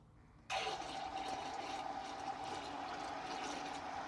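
Viral paintbrush washer switching on in water, a sudden start into a steady churning, splashing rush with a low motor hum beneath, continuous and fairly close.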